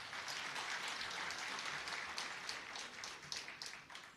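Booth presidents at a party conference rally in Amreli clap together, a sustained burst of crowd applause with scattered sharper claps toward the end, fairly distant and even.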